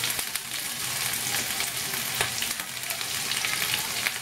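Onion, capsicum and carrot sizzle steadily in a pan for a vegetable chilli, with crackling oil and occasional stirring scrapes, close and continuous.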